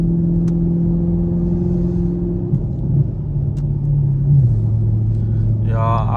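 A Chevrolet Camaro SS engine drones loudly and steadily from inside the car, dropping in pitch as it shifts gear, then a sharper rev climbs near the end; a faint voice is present.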